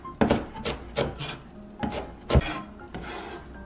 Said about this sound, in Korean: 고추는 채로 썰어서 송송송 썰어주세요.